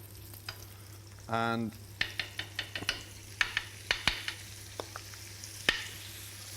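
Lamb pieces frying skin side down in olive oil and butter in a pan, a brief close burst of sizzle followed by a run of light clicks and taps of pan and utensils, faint and intermittent with a low steady hum beneath.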